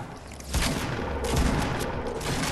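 Dense rapid gunfire in the Fortnite video game, a sustained burst of loud overlapping shots with a boom-like crack starting about half a second in and continuing steadily to the end.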